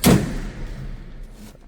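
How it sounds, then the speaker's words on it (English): The door of a 1936 Chevrolet Master two-door sedan street rod shuts with a single solid thud, followed by a low resonant decay and faint background noise. "The door sounds nice when it closes,"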